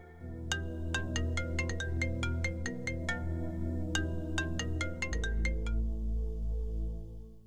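A phone ringtone plays during an outgoing call, a bright repeating melodic chime sounding clearly and alone for several seconds before a deeper tone takes over.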